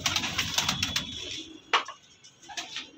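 Andhra line pigeons at a loft, including a Kalanka Phulsira hen, give soft cooing and flutters amid light ticking and tapping, close and fairly quiet, fading into sparse isolated sounds.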